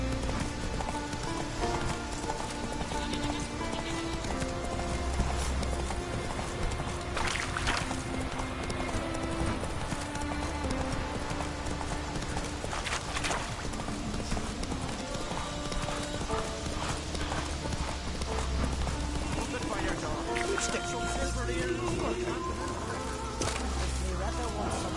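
Roach, Geralt's horse in The Witcher video game, clip-clops steadily on hooves throughout, a continuous trotting rhythm layered over background game music and ambience.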